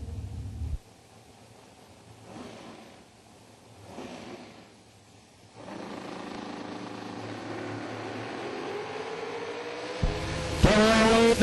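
Two touring bracket drag racing cars launching down the strip, a rising engine roar that swells and holds loudly from the middle onward, with a sharp burst of higher engine noise near the end.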